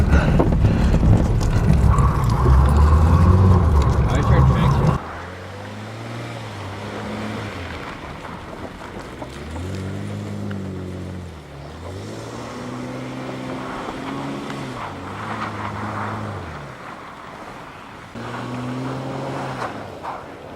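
A car drives slowly around a residential cul-de-sac, its engine hum rising and falling with gear and speed changes after a loud rumbling opening, heard close from inside or near the vehicle.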